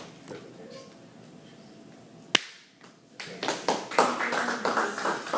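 Audience applause after a student engineering presentation in a classroom: a single sharp clap, a pause, then a burst of many hands clapping together, close and fairly loud, with talking underneath at the start.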